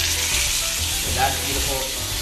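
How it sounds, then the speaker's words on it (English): A ribeye steak sears in vegetable oil in a hot pan, giving a loud, continuous sizzle and crackle that holds steady throughout with no talking. "We put a little vegetable oil in, just to help with the sear."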